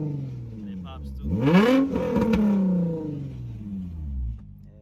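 An Infiniti G35 with a 300-horsepower engine revs up sharply and sweeps back down, a close, rising and falling engine note with crackling pops near the peak.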